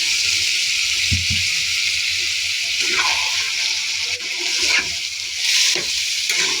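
A prawn and fig curry with coconut milk bubbles and sizzles steadily in a pan while it is stirred, with a few soft scraping knocks over the continuous hiss.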